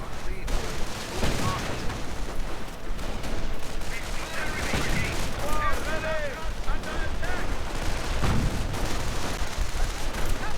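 Browning automatic rifles and other small arms fire in a WWII strategy video game battle, with dense overlapping bursts and booms forming a continuous din throughout.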